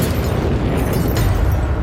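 A bomb explosion in a Lisbon street, rendered as a dense, continuous low boom and rumble lasting about two seconds, loud and close with no talk over it.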